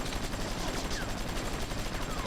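Rapid automatic gunfire from a helicopter in the GTA V video game rattles steadily through the whole stretch, dense and fairly loud, mixed with game noise and faint voices.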